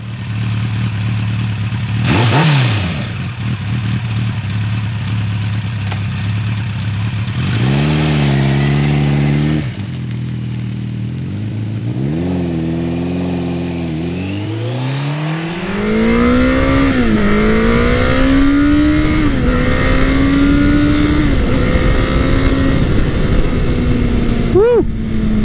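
A Kawasaki ZL900 Eliminator muscle cruiser motorcycle idles and blips its throttle in short revs, then pulls away and accelerates hard through several gears, its engine note rising and dropping loudly up close.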